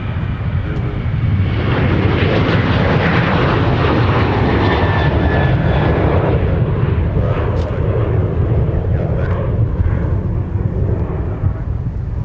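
A Delta airliner bound for Atlanta takes off at MSP with a very loud, continuous, rumbling engine roar. The roar stays strong and broad throughout, with faint talk mixed in.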